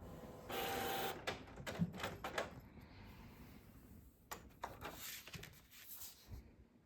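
A printer runs through a sheet of stickers close by, with a steady feed whir followed by a series of clicking, clunking mechanical movements and short pauses.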